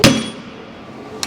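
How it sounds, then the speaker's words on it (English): A hammer strikes a part on a 1956 Chevy truck, one sharp metallic hit at the start and a lighter tap at the end, with workshop noise ringing between them. "it just took a bigger hammer and less patience."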